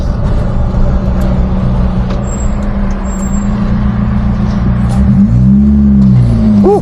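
A car with a loud modified exhaust on a busy toll road, a droning engine roar that swells into a sweeping pass near the end, with traffic noise underneath.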